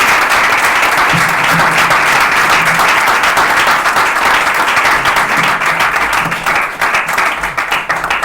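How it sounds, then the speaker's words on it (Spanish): Sustained audience applause at a lecture on ecofascism, dense and loud throughout, a full room clapping steadily before it begins to thin out near the end. "un aplauso para Carlos porque está fenomenal"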